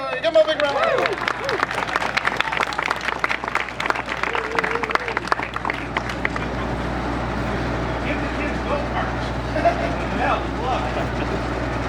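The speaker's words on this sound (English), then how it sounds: "Give him a big round of applause." Outdoor crowd applauding at a grand opening ceremony at Six Flags Discovery Kingdom, with a dense burst of clapping that thins out, while a voice talks over it and background noise continues.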